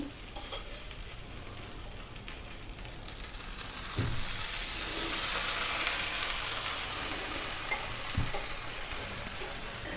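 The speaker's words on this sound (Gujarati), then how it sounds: "પુડલું ઢોસો જે છે એને આપણે ઉથલાવી દઈશું અને ફરી થોડું ચારે બાજુ તેલ નાખી દેશું" Farali dosa frying in oil on a pan after being flipped, with fresh oil added around the edges; a steady close sizzle swells midway, broken by a couple of soft spatula knocks, with no talk.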